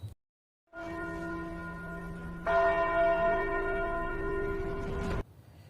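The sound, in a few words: temple bell ringing at the Qi refining pagoda, anime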